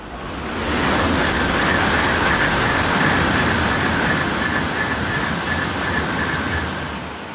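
A Tokaido Shinkansen bullet train speeds through a small, rarely served station, making a loud, steady roar and rush of air that swells in, holds for several seconds and then begins to fade.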